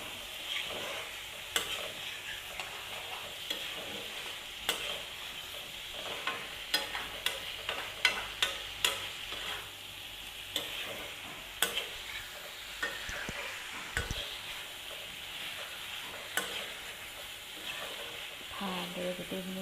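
Chicken curry sizzles softly in a pan with a little water while a spoon scrapes and stirs in repeated clicks and taps over a steady hiss.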